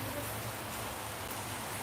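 Steady rain falls outdoors on a city street, a dense, even hiss of drops that runs the whole time with no pauses and no clear voices over it.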